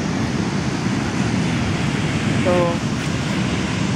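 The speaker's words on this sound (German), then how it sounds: "So, nochmal Wellen." Ocean waves wash steadily onto a beach at Port Stephens as a continuous broad roar with a slight swell near the end, and a voice speaks one brief word.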